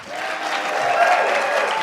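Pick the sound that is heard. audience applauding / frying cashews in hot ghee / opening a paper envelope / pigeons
audience applauding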